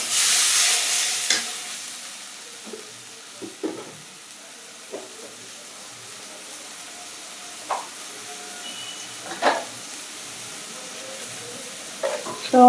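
Rohu fish and potato curry simmering in a pan with a little water added for braising, giving a steady low hiss and bubble with occasional louder stirring scrapes and spikes, strongest at the start.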